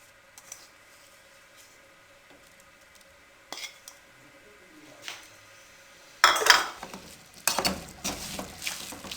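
Spoon scraping and stirring chopped almonds and raisins into egg semolina halwa in a pan, quiet at first with a few clinks, then louder bursts of scraping and clatter near the end.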